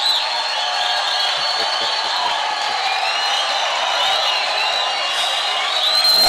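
A church congregation cheering and acclaiming the Lord, a dense sustained roar of crowd voices with whoops and shouts, steady and loud throughout with no pauses.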